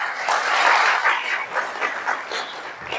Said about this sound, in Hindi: ओके, अपने लिए तालियां।